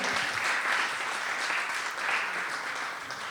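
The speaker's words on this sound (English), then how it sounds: "A warm round of applause, Mahindra Sanatkada style." A literature festival audience in the Literary Pavilion gives a warm round of applause after a talk, sustained dense clapping at an even level throughout, with no speech over it.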